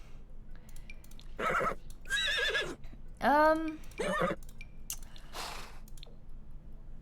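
A horse in a Sims video game neighs and whinnies in several loud, close calls with a descending quavering tone, separated by short pauses, while a voice talks.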